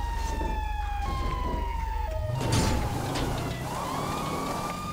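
Police car siren in the GTA 5 video game, a loud steady wail with rising and falling sweeps that shifts pitch midway, over heavy low engine rumble and game background noise.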